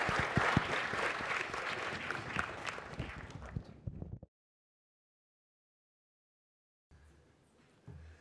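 Audience applause thanking panellists at an energy security discussion event, dense clapping for about four seconds that cuts off abruptly into silence, then faint room noise.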